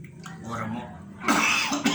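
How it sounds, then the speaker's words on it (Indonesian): After some quiet murmuring, a person nearby lets out a couple of harsh, throaty coughs in quick succession. "nyelesain batuk dulu ya"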